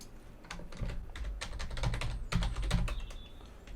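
Rapid keystrokes on a computer keyboard as a password is entered, a steady run of close clicks with brief bursts and no voices.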